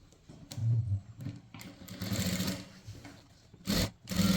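A sewing machine stitches a blouse body piece in short bursts, its motor whirring and needle rattling close by, pausing between runs of stitching.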